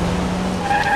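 A car braking hard to a stop on a road, with a sustained tire screech that rises in pitch near the end and continuous vehicle noise underneath, close and loud.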